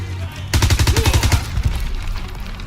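Submachine gun fire in Call of Duty WWII, a rapid burst of about a dozen loud, evenly spaced shots lasting roughly a second, followed by a fading echo tail.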